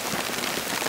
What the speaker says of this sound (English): They're quite big chunks of hail.